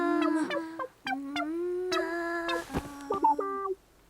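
A person imitates a chicken clucking with a string of nasal, pitched cluck sounds in an uneven rhythm, close and clear with no other sound behind it.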